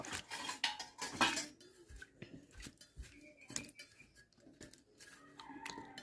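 Small kaprenga fish are washed in a bowl. Close, irregular clinks and knocks against the bowl come with faint sloshing and rubbing, alone without talk.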